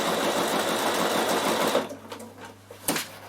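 A sewing machine runs a double satin stitch on a zippered knitting bag, a fast, even, close mechanical whir that stops partway through and leaves a few faint clicks and handling sounds.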